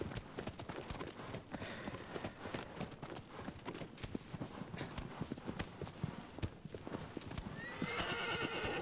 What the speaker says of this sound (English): At least they gave us a horse.